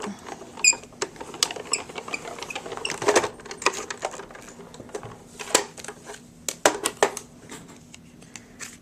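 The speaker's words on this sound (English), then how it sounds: "take the spirally dots embossing folder, and I'm going to run that through." A spirally dots embossing folder with a B plate is cranked through a manual embossing machine, giving faint creaks and clicks with a few sharper ticks over several seconds, heard fairly close and alone.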